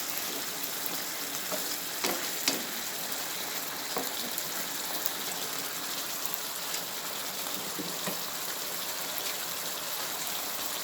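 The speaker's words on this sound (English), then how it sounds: "just so the seasoning can get that little frying up to give it the real flavor" Steady, faint sizzling and bubbling of curry seasoning frying in a pot as the water nearly dries out, a continuous hiss with small crackles and pops scattered throughout.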